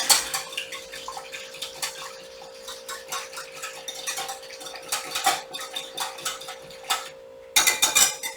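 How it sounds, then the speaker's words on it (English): A whisk gently stirring bread ingredients in a bowl makes quick, rhythmic clinking strokes against the sides, close and crisp, with short pauses between bursts and no talking. "we're going to gently whisk this together before we mix in our other ingredients"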